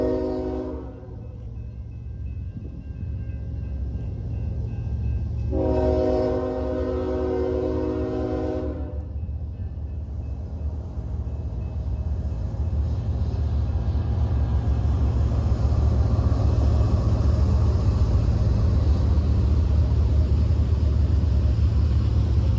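Norfolk Southern NS24X freight train led by a Conrail locomotive passing close by: a continuous heavy rumble of engines and rolling railcars with a loud horn blast partway through, no talk.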